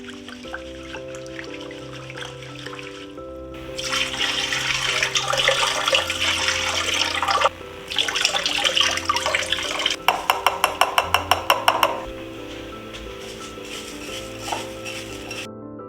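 Tap water runs steadily while lentils are swished and rinsed, with bursts of splashing and quick rattling, over soft background music.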